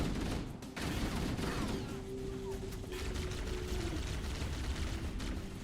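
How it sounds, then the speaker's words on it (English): Gunfire in Halo: Combat Evolved, a steady stream of shots and battle noise at moderate level, continuous throughout, with a faint voice in the background. "They're shooting."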